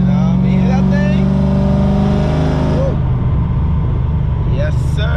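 A Ford Shelby GT500 engine rumbles loud and close while driving, a steady deep drone with a rising rev partway through, as someone talks and whoops over it.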